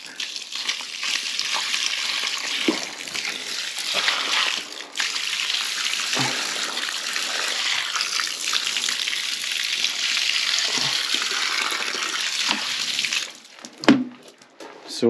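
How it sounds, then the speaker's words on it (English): Water pours steadily and loudly into a trench dug between rocks, a continuous rushing splash that thins near the end. "I'm gonna pour some water and see how well it's working."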